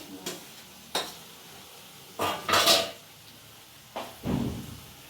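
Pulses and cabbage fry in a pan, with a faint sizzle beneath sharp metallic clanks and scrapes of a utensil against the pan, coming in irregular bursts close by.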